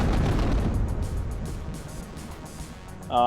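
Battle sounds from the WARNO strategy video game, with a heavy rumbling boom fading into a dense spatter of gunfire cracks and distant blasts, then a sharp tonal burst right at the end.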